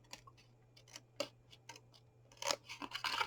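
Scissors snip through card for a chunky gift box in a series of short, crisp cuts, irregularly spaced and close, in a quiet room.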